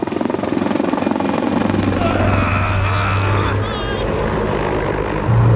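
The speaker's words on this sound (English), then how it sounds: "This U.S. Marine chopper arriving" A U.S. Marine helicopter arrives with a steady, loud rotor and engine roar that holds throughout, with voices faintly audible beneath the din.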